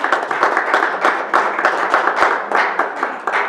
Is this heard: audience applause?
yes